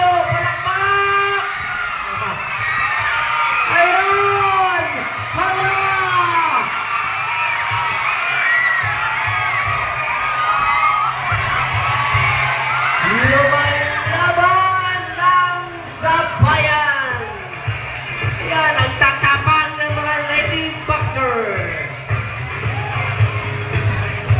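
A crowd at a ladies' boxing bout cheering, whooping and shouting, a continuous loud roar of many voices with scattered yells rising and falling, and a speaker talking over it.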